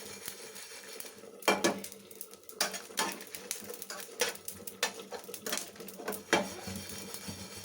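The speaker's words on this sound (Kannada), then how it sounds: "ಇಷ್ಟನ್ನು ಒಂದು ಮೀಡಿಯಮ್ ಇದ್ರಲ್ಲಿ ಇಟ್ಕೊಂಡು ಫ್ರೈ ಮಾಡ್ಕೊಳ್ಳಿ." Coriander seeds and curry leaves frying in a pan over medium heat for sambar, with a low sizzle under repeated sharp clinks and scrapes of a spoon stirring against the pan, close up and no talking.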